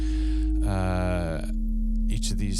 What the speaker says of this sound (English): at the moment we're just using sine waves on each of these